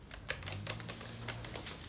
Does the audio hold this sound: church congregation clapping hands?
no